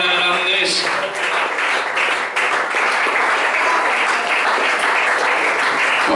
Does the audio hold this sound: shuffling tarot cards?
no